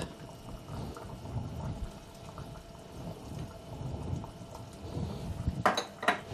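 Semolina with paprika and coriander stirred in a cooking pot, soft irregular scraping and shuffling with faint liquid movement, ending in two sharp metallic clinks of utensil against pot.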